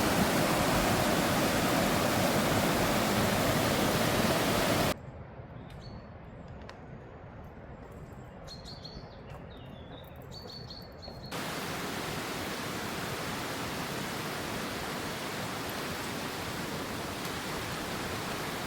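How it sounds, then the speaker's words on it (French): Steady, broadband rushing water from waterfalls roars loudly, drops away to quieter surroundings with faint birdsong for several seconds, then the heavy rush returns. "un endroit super beau, avec plein de cascades"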